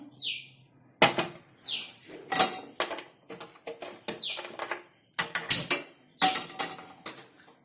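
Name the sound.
kadai (wok) being placed on the stove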